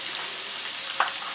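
Chicken legs frying in oil with chopped green chillies, a steady close hiss of sizzling with a few small pops and crackles.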